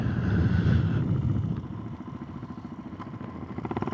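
A Suzuki DRZ 400 SM motorcycle engine runs nearby, revving loudly at first and then dropping into a steady pulsing idle with mechanical clatter.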